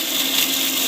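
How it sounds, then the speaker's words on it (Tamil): A mixer grinder whirs steadily at high speed while blending tomato chutney into a fine paste, a loud, continuous motor drone with no pauses or voices. "மிக்ஸியில் வந்து ஒரு ஃபைன் பேஸ்ட்டை வந்து அரைச்சிக்கலாம்"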